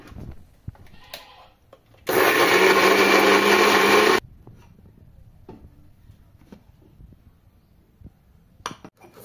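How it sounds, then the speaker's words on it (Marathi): An electric mixer grinder whirs loudly for about two seconds while finely grinding cumin seeds in a home kitchen, starting and stopping abruptly, with quiet clinks of utensils before and after. "जिरे ॲड करून झाल्यानंतर मित्रांनो आपण आता मिक्सरमध्ये बारीक करून घेऊ."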